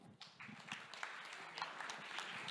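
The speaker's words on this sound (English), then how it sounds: "I would like you to give a round of applause for Nemanja." A conference audience gives a speaker a brief, faint round of applause, a soft wash of distant clapping.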